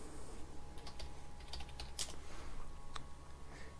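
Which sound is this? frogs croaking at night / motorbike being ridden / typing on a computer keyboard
typing on a computer keyboard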